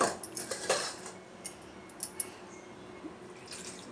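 A metal plate is rinsed in clean drinking water after scrubbing, giving light clinks and drips with a few soft metallic taps and splashes that fade into quiet.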